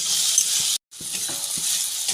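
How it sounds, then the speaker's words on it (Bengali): Mushrooms frying in a pan and being stirred until their water cooks off: a loud, continuous sizzle with small scraping clicks from the stirring, broken by one brief moment of silence. "মাশরুমটা ভাজতে ভাজতে জল বেরোবে জলটা মরে যাওয়া পর্যন্ত মাশরুমটাকে নেড়ে ছেড়ে ভেজে নিতে হবে"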